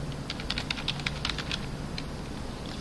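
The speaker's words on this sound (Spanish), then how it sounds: "vamos a digitar acá en la parte superior derecha" Keys tapped on a computer keyboard while typing into a Twitter search box, a quick irregular run of light clicks across the middle of the clip over a steady room hum, with no talking.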